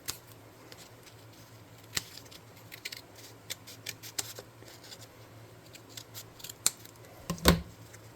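Scissors cutting cardboard, a series of crisp snips at irregular intervals, close and quiet, with a louder cluster of cuts near the end and no talking.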